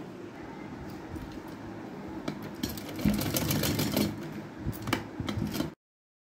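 Sewing machine stitching a border strip onto a skirt made from a saree, a steady run of needle clatter that builds and speeds up midway, close and alone with no talk, then stops abruptly.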